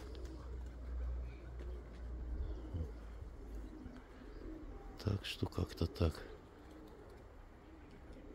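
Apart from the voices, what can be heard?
pigeons cooing near a dovecote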